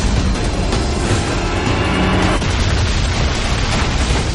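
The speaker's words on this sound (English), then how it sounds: "catastrophic route changers that topple towers and derail trains to alter the course in front of" A train derails in the Split/Second racing game, a dense, loud rumbling roar of rail cars and crashing metal that fills the whole stretch without pause.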